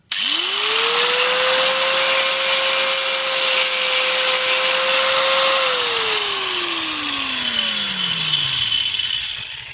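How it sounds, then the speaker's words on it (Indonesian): A power grinder smooths the cut edge of PVC pipe, loud and close: the motor whines up quickly, holds a steady high pitch with rough grinding against the plastic, then winds down slowly, with no talking. "itu kita bisa haluskan dengan permukaan gerinda ini."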